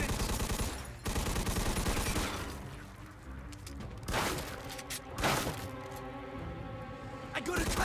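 Dense gunfire in the Mafia 2 video game, sustained bursts of shooting with heavy impacts filling the whole stretch, someone talking over parts of it.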